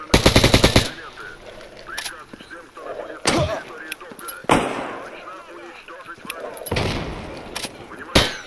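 AK rifle fire in a shooter video game, a rapid burst at the start followed by scattered single loud shots and short bursts against a quieter game background.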